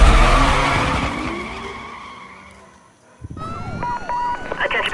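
Race car in Need for Speed Most Wanted, engine and tire skid noise roaring loud at first, fading away to near silence, then returning with bright electronic tones under a voice.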